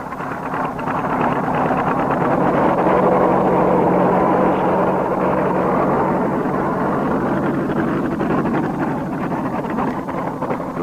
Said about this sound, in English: The sound of engines fades into silence.